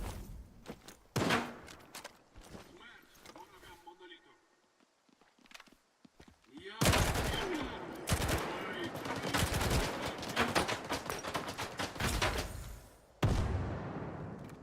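Bursts of gunfire from a player's ordinary gun in a first-person shooter, sharp repeated shots in clusters after a quieter stretch, loud and close with game sounds and voices around them.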